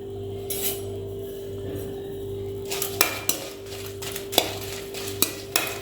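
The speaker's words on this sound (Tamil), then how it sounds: "இப்போ இந்த வத்தலை போட்டு நல்லா வறுத்து எடுத்துக்கலாம்." Dried red chillies roasting in a pan over a low flame for curry leaf powder, with a utensil stirring and scraping and sharp clinks against the pan recurring over a steady background hum.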